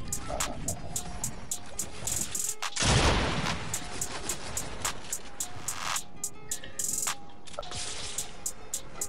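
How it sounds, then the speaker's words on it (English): Rapid bursts of gunfire in a Fortnite match, with many sharp shots in quick succession across the clip and a louder blast in the middle, up close and continuous. "They all shooting at me."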